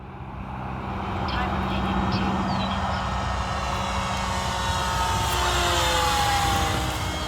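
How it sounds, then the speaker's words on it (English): Loud, buzzing drone of an E-flite Spitfire Mk XIV model airplane with a five-bladed propeller passing close by, its whine shifting in pitch as it flies overhead. "Really unique sound to this plane because of that 5-bladed prop."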